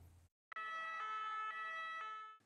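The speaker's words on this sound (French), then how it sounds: "À bord de leur bus et dans un vacarme de sirènes et des nuées de gyrophares" Ambulance sirens blare from a convoy of around sixty ambulance workers' vehicles during a protest in Paris, a loud, steady warbling wail that holds for about two seconds, close and without any talk.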